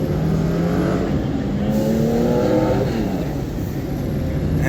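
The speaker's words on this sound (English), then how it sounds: "But it is, looks like a Porsche of some sorts." A Porsche 911 racing car at a historic race paddock at Road Atlanta runs past with a steady, loud engine drone, its pitch rising and then falling as it goes by, with no talk over it.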